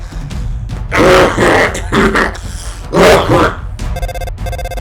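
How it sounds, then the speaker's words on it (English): A phone ringtone plays in an animated Undertale fan comic. Strained grunts and effortful vocal sounds come first, then a short run of bright, repeating electronic rings closes the moment. "Is that your phone? You better answer it."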